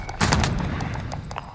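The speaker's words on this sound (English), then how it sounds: "I'm turning on the rapid fire and I'm gonna piss someone off." Rapid-fire weapon shots in a first-person shooter video game, a quick burst of loud cracks followed by a few fainter shots trailing off.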